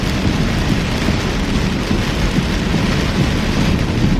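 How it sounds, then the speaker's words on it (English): Heavy summer rain pours down during a thunderstorm, a loud, dense, continuous roar of drops with a deep rumbling undertone and no pauses. "This rain is heavy."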